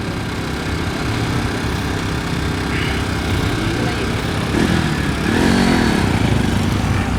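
Bajaj Pulsar NS 200 motorcycle engine running steadily at a motorcycle gymkhana competition, a continuous mid-loud drone that swells slightly toward the end with some faint voices in the background.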